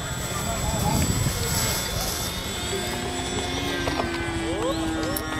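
Small electric Great Planes SU-31 RC aerobatic plane taking off from a runway, its motor whine rising in pitch over steady outdoor background with men chatting throughout.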